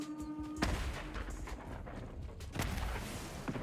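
Fireworks burst in the video game Ghost of Yōtei as a few deep, distant booms spaced seconds apart, each followed by a short rumbling tail.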